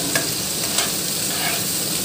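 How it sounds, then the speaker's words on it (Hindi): Onions fry in hot oil for an aloo mutton curry while being stirred, a dense constant sizzle with a couple of light scraping knocks, close and without speech. "देखिए प्याज मेरे भून रहे हैं।"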